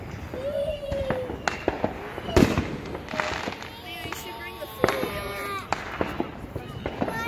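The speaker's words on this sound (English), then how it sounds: "Yeah, but we're watching fireworks." Fireworks and firecrackers bang at a 4th of July display, sharp pops scattered throughout at varying distances, with children talking and calling out over the crackle and thumps.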